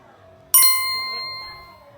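A single bright phone notification ding rings out sharply and fades with a lingering tone, alone over a quiet background.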